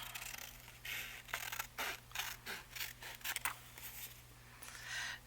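Scissors snipping through paper while cutting pieces for a handmade lapbook, a series of close, crisp cuts and rustles in an uneven rhythm with no talking.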